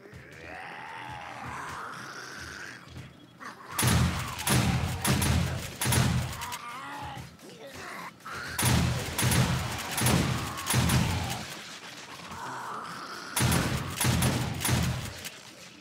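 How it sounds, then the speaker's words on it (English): Shotgun turrets in the video game 7 Days to Die blast in rapid volleys, three loud bursts of repeated heavy shots separated by short quieter gaps, with no talking. "let's give these shotgun turrets a test"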